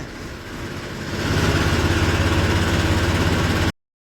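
Tractor engine idling steadily after being stopped, a close, loud low rhythmic throb that settles in after a second, with wind noise on top and no talk.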